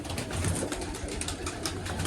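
A female pigeon coos softly in a low, repeated murmur, faint and steady throughout, with no other clear sounds over it.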